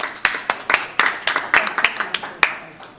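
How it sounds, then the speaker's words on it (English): A small group claps for state championship school teams at a school board meeting, giving sparse, sharp individual claps in an uneven rhythm that fade out after a few seconds. "so applause for that"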